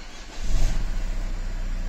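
A Nissan X-Trail 2.0 dCi diesel engine with a knocking piston cranks and fires up, rising into a steady rumbling idle that stays loud and close.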